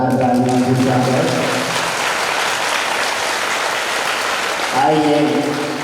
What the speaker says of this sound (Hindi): वीर हनुमान के लिए एक बार जोरदार तालियां बजाकर